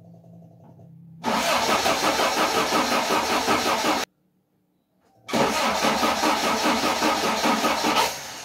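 Vauxhall Firenza HPF engine cranked without starter fluid: two long bursts of loud, harsh churning with a short silent gap between, close up and without talk.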